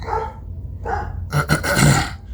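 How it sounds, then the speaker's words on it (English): A dog growls and grumbles nearby in short low bursts, ending in a longer rough snarl. "Yes, excuse my dog."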